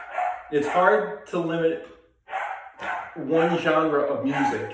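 A household dog barks in the background, its barks sitting fairly low beneath a person who talks steadily through the whole stretch.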